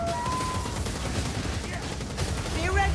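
A Skaven Gunner fires in Warhammer Vermintide in a rapid, sustained rattling burst of gunfire, loud and continuous, mixed with game noise and a voice over it.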